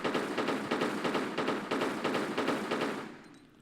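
Rapid gunfire in the video game Tomb Raider: The Last Revelation, a steady burst of close, evenly spaced shots that stops and then trails off into quiet.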